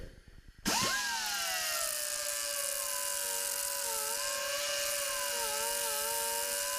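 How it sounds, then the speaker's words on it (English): Angle grinder fitted with a 120 grit disc smoothing a broken tap, spinning up abruptly to a steady whining drone with a sustained tonal hum and slight pitch wavering as it works the metal. "I changed the disc to a 120 grit"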